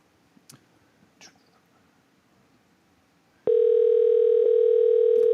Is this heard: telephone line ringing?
yes